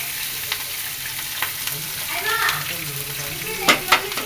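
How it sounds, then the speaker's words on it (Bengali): Onion and green chili dropped into hot oil, giving a soft frying sizzle with a few sharp spatters and stirring clicks, fairly close but modest in level. "এবার গরম তেলে একটু পেঁয়াজ কাঁচামরিচ দিয়ে দিলাম"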